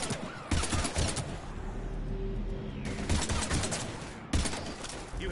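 Bursts of sustained automatic gunfire in Mass Effect 3 combat against Batarians, loud and close, coming in long volleys separated by brief lulls with a low ambient hum beneath.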